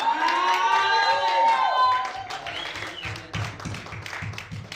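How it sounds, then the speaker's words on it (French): A French-speaking church congregation at Sunday worship raises an acclamation offering, with loud voiced shouts and cheers at first, then dense, lively clapping filling the room near and loud. "Est-ce que quelqu'un peut donner une offrande d'acclamation au Seigneur?"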